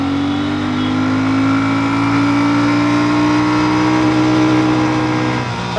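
A 2024 Royal Enfield Shotgun 650 motorcycle pulling hard in second gear, its engine a loud, steady drone with pitch climbing gradually, recorded close from the rider's position with wind rush throughout.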